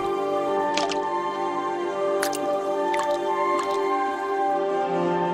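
A water droplet falls into still water, giving several distinct, sharp drips spaced irregularly over a steady humming background, close and fairly clear, with no speech.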